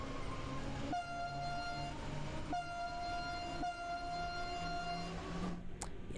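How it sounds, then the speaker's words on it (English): Single-tone train horn on a locomotive in Train Sim World's Wuppertal–Hagen route, Rhein-Ruhr Osten, sounding three sustained steady blasts over a constant engine and rolling hum, no talking. "Another pathetic horn. Well, it's only single tone, no dual tone, and this is how it sounds."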